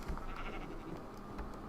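A sheep in Minecraft gives a couple of short bleats over a busy game background, fairly close and moderately loud, with no talk.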